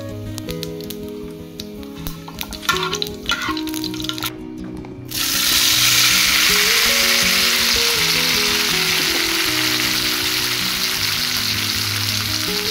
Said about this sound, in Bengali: দুটো শুকনো লঙ্কা, একটু তেজপাতা ফোড়ন দিয়ে দিলাম, এর সাথে একটু পাঁচফোড়ন ফোড়ন দিয়ে দিলাম।